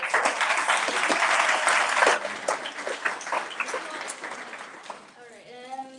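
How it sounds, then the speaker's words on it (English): An audience at a literary magazine issue launch event applauds loudly and steadily for about two seconds, then the clapping thins out into scattered claps as a voice starts speaking over it. "Once again, round of applause"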